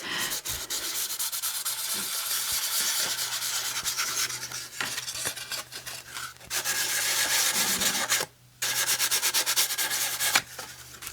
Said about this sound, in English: she sanded a brand new note card